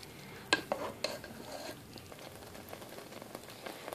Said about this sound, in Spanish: Y vamos a mezclar para que se integre bien la salsa con el espagueti.